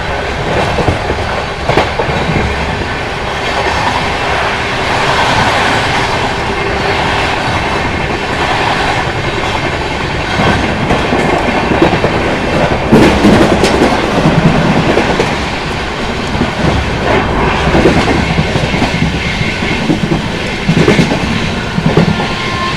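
An Amrit Bharat Express train on the Patna–New Delhi route runs on rails, heard from inside the carriage as a loud, continuous rumble with rhythmic clickety-clack of wheels over joints and occasional sharper rattles.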